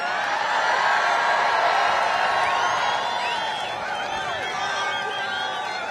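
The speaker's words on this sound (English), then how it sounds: "What a crowd." A large crowd at a political rally in Freeland, Michigan cheers and whoops loudly, a dense roar with scattered high shouts that eases slightly toward the end.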